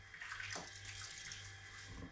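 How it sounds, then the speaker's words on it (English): Cold water runs and splashes steadily over soapy leather walking boots being rinsed off, a continuous close wash with no talking. "just rinse it off with a bit of cold water"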